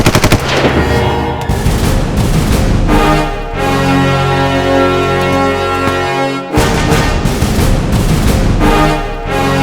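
Loud bursts of rapid gunfire ring out in a TV comedy scene, repeated in volleys over a droning musical backdrop, with a brief silent gap midway.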